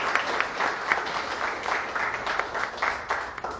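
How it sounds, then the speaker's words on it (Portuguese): A church congregation claps together during an evening service, a dense patter of applause that swells and fades briefly over a few seconds. "Uma salva de palmas para Jesus."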